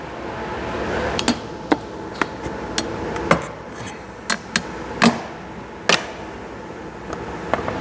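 Lightweight plastic roof covers being popped off a fifth-generation Toyota 4Runner, a series of sharp, close clicks and snaps spaced irregularly over a faint steady background hum.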